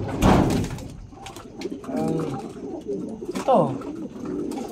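Pigeons coo repeatedly in a loft or coop, soft throaty calls recurring close by under a person talking throughout.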